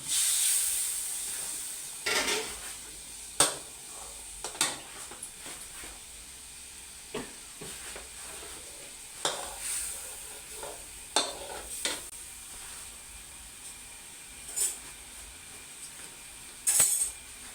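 Coconut milk with fish sauce simmers with a soft, steady hiss while a utensil stirs it in intermittent scraping strokes, making chu chee shrimp curry; no voices.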